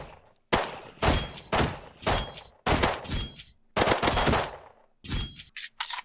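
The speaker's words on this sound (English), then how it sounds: "But this is the semi-auto pistol" Semi-auto pistol in the Minecraft Just Enough Guns mod, fired in about seven sharp, loud single shots with short gaps between them, each shot ending in a quick mechanical tail.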